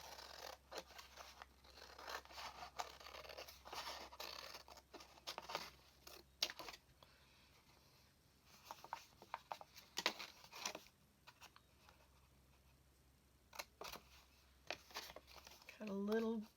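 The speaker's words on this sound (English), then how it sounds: "I'm just going to cut a little bit of an angle around, and obviously I can trim this off." Scissors cutting and trimming a thrifted mini journal cover, heard as quiet close snips and rustling paper in irregular bursts with pauses between them.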